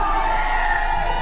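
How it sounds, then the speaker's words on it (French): A wrestling crowd roars and cheers loudly in a continuous dense wall of voices, with no single speaker standing out. "la foule est en feu derrière petit gibier"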